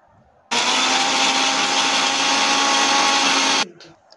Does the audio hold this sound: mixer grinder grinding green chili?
yes